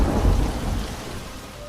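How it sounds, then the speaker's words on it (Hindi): Heavy rain pours down with a deep rolling rumble of thunder in a night thunderstorm, loud and close, with no voices. "अचानक से आधी रात को तेज गड़गड़ाहट के साथ बारिश होने लगती है।"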